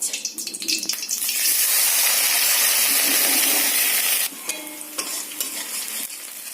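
Chopped onions fry loudly in a pan for a fish curry, a dense continuous sizzle with stirring scrapes and clatter, easing slightly near the end.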